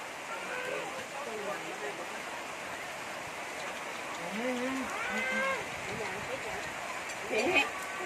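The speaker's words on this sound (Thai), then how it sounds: "ฝนกำลังตก" Rain falls steadily outdoors in a continuous hissing patter, with people talking over it and a few louder drops or splashes near the end.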